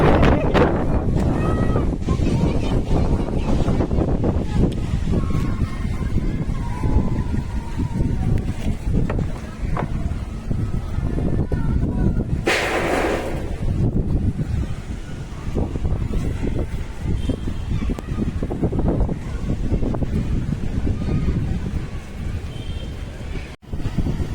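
Strong wind roars and buffets the microphone continuously, with a rushing wet texture of heavy rain, sustained for the whole stretch, during a cyclone in Mumbai.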